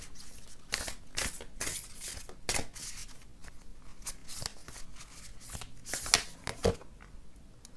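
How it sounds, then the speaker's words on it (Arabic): Chakra cards being shuffled by hand for a tarot reading, a run of quiet, rapid papery riffles and flicks in irregular bursts close by, with no voice. "خلينا ناخد لك كارت من كروت الشاكرات"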